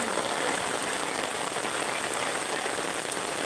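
Heavy rain pours onto a village river, a dense, steady hiss of drops striking the water that holds at full strength throughout with no voices.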